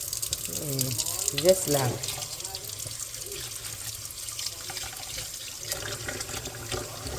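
Lukewarm tap water runs steadily into a kitchen container for soaking green lentils, a soft continuous splashing stream heard nearby beneath a brief spoken remark.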